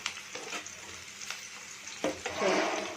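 Onions and green chillies fry in hot oil, giving a steady close sizzle with stirring clatter, swelling louder near the end.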